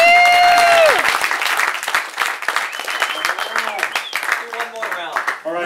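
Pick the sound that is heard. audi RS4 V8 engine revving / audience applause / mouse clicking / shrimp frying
audience applause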